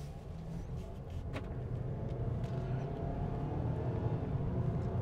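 Ford Maverick FX4 compact pickup truck driving at a steady pace, a low, continuous engine and road rumble heard from inside the cab, fairly quiet and even throughout with no voices.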